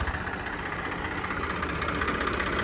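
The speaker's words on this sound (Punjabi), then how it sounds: "ਲੋ ਬਾਈ ਸਟਾਰਟਿੰਗ ਚੈੱਕ ਕਰੋ ਟਰੈਕਟਰ ਦੀ" A Massey 241 tractor's diesel engine idles steadily with a low, even chugging rumble throughout, running without any change in pace or pitch.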